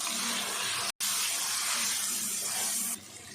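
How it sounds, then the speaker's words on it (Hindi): Steady rush of water being poured into a pan of frying spice masala with turmeric, red chilli, coriander powder and salt for a pumpkin curry, a continuous hiss that briefly cuts out once and softens near the end. "थोड़ा थोड़ा पानी डालते हुए हम अच्छे से मसाले को भून लेंगे।"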